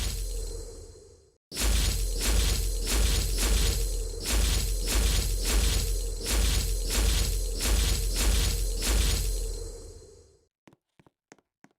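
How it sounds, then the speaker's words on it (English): In a video game, a rock spikes ability fires a long run of loud, rapid, rhythmic crushing and shattering bursts, followed by a few short faint clicks. "Selene will take rock spikes out of the ground. Then where you click, Selene will shoot a rock spike."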